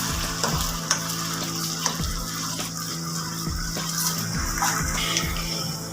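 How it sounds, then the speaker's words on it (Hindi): Pieces of arvi (taro root) frying in hot oil, a loud, dense, continuous sizzle and bubbling with a few faint scrapes over the steady crackle. "जी देखें, ये फ्राई हो रही है"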